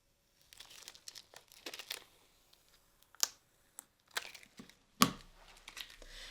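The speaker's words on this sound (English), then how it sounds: "And remove my piece of transfer tape." Transfer tape peeled off an acrylic penguin ornament: short crinkly tearing and crackling bursts in quick clusters with pauses between, close and fairly quiet, ending in a sharper rip.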